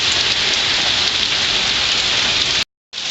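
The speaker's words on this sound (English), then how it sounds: "You can even see the rain dropping down that quick." Heavy hurricane rain pours in a dense, loud, steady hiss, close by, cutting out abruptly for a moment near the end before resuming.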